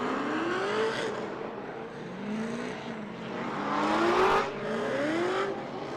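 Drift cars race at Lake Erie Speedway in a Great Lakes Pro-Am drift competition, their engines wailing up and down through revs with rising and falling pitch and squealing tires, heard from a moderate distance.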